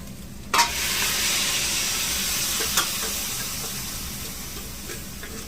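Pressure-cooked beef, seasoned with turmeric, salt, pepper and chili powder, hits a hot pan with a sudden burst, then settles into a loud, steady, close sizzle and hiss for a beef roast, with a brief clatter midway and no voices.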